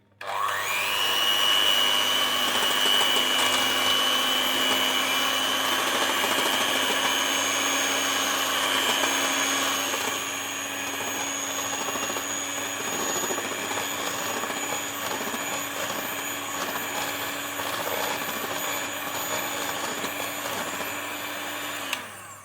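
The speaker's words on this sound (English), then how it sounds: "And then we are just going to whisk that up really quickly." An electric whisk beats a gluten-free bread mixture, a loud continuous motor whine that runs steadily for the whole stretch, shifting slightly in pitch partway through, with no talking.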